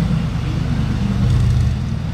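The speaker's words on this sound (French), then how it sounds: "Elle fait un bon bruit cette GT3 RS ultraviolet" A Porsche GT3 RS in ultraviolet paint drives through Monaco traffic, its engine a loud, dense, low rumble that holds steady and close.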